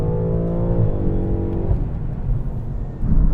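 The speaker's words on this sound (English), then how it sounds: "The car wouldn't go from third to fourth." A tuned drag-race car's engine drones loud and close, its steady harmonic whine sagging in pitch as it fails to shift from third to fourth gear, then settling into a rough, lower rumble.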